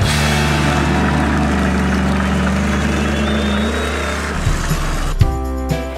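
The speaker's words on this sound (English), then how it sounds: "can you hear their engines are roaring so loud?" Monster truck engines roar loudly at close range with a sustained low, heavy rumble, then the revving drops and gives way to brief clanks and a tonal mechanical whine near the end.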